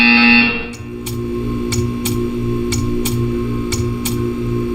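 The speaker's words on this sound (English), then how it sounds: "You will hear a buzzer." An electronic buzzer from the video game Portal 2 blares loud and sustained at first, then cuts off, leaving a steady hum with a run of regular clicking ticks.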